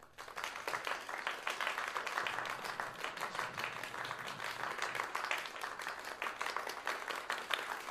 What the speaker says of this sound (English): Go ahead and give you a round of applause here.